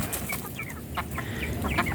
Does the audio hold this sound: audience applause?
no